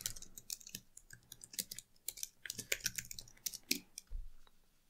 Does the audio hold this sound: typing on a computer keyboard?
yes